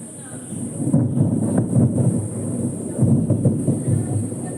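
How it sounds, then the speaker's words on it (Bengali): Thunder from a thunderstorm rumbles low and heavy in repeated rolling swells, with a constant high electronic whine over it and no clear talk. "বিদ্যুৎ চমকাচ্ছে প্রচণ্ড"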